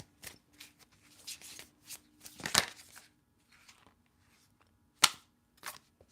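Tarot cards riffled and drawn during a love reading, a run of soft papery shuffling bursts with a few sharp snapping slaps standing out, fairly close, with no talking.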